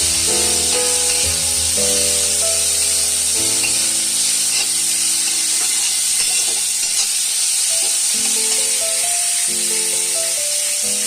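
Mutton mince frying in a pan while being stirred, a loud continuous hiss and sizzle with melodic background music playing throughout.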